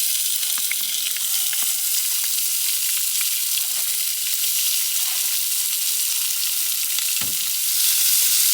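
Onions frying in a pan with bacon lardons, cooked in a tarp hot tent on a rainy night, give a steady close sizzle with small crackles and one brief stirring scrape, and no one speaks.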